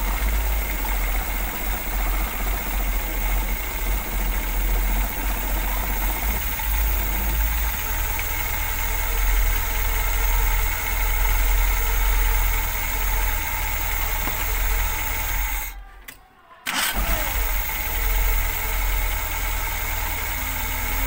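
A car engine idles steadily after a restart, a smooth, even hum that runs close and constant with no talking, then drops out briefly near the end before coming back.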